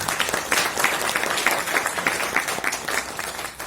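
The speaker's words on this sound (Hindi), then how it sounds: "कपल्स के लिए एक जोरदार ताली।" An audience at a direct selling business seminar bursts into loud, sustained applause for the couples present, many hands clapping in a dense, rhythmic patter throughout.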